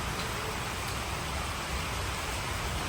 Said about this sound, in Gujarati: વરસાદ ચાલુ છે કન્ટિન્યુ.